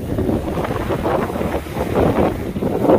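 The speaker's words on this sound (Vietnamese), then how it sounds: "gió quá gió Mình nói chuyện thì nó có bị ồn hoặc là bị ghè không nha" Strong wind batters a microphone on the shore beside a boat, a constant gusty rumble with swelling, uneven buffeting bursts and no talk.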